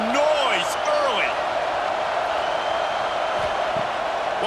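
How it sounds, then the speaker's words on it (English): Stadium crowd roar from EA Sports College Football 26, a steady dense wash of cheering throughout, with whistle-like tones and bursts layered on top. "This crowd bringing the energy and noise early"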